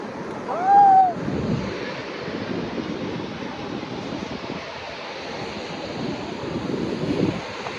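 Ocean surf rolls steadily onto a clean beach in Puri, a broad continuous roar mixed with wind buffeting the microphone, with a brief high whistle near the start.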